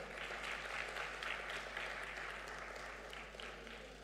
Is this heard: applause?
yes